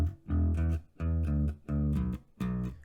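Fretted bass guitar notes play a blues riff in E from a Rockschool Grade 3 piece, in four distinct phrases separated by brief gaps, close and clear with no talking.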